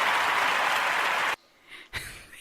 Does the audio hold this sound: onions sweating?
no